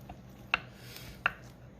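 Two short, crisp clicks about three-quarters of a second apart as smoked pork ribs are flipped with tongs on a 270 GS grill, over a soft, steady background hiss.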